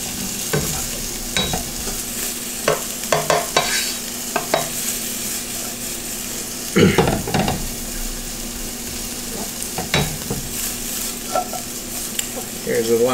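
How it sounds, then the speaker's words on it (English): Ingredients being stirred and scraped around a hot wok, with steady sizzling frying underneath and repeated sharp utensil scrapes and clatters at uneven intervals, close and fairly loud, with no talking. "notice that I am still moving all the ingredients around"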